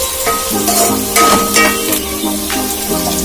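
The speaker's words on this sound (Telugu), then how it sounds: "ఒక 2 నిమిషాల పాటు వేగనివ్వాలి." Onions frying in a pan with cinnamon, cardamom pods and cloves for a chicken masala gravy, a steady close sizzle with scraping stirs and a few clinks of the spoon throughout, no voices.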